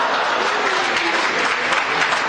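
Audience at a Guo Degang and Yu Qian crosstalk comedy show bursts into sustained, dense applause, loud and continuous throughout with no talk over it.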